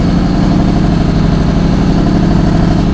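A 1000-horsepower Scania Red Pearl R999 show truck engine runs steadily and loud, a deep continuous rumble with a mid-range rattle that stays constant throughout, no voices.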